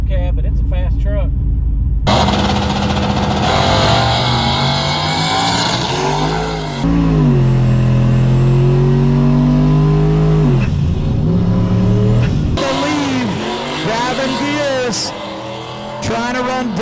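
Pickup trucks, including a crew cab, accelerate hard at an all-truck street drag race in Newport, Arkansas: loud engine roars rising and falling in pitch through gear changes, close and sustained, with a voice talking partly over the noise.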